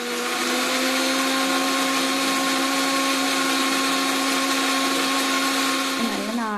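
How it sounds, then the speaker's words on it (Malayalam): A mixer grinder blends cooked rice with thick curd, a steady, loud motor whine with a strong droning hum that holds throughout, then dips and shifts pitch near the end. "അത് നമ്മൾ മിക്സിയിൽ നന്നായിട്ട് ഫൈനായിട്ട് അരച്ചെടുക്കാം"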